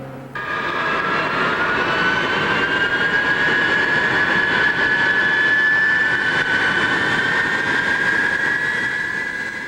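Jet engines of B-52H bombers and KC-135 tankers roar in a loud, continuous drone with a steady whine, sustained evenly throughout with no talk.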